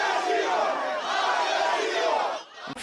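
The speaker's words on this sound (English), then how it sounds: "An angry crowd pelting the king and queen with mud." An angry crowd in Spain shouts and jeers at the king and queen, a dense, loud roar of many voices that holds steady and then drops off abruptly near the end.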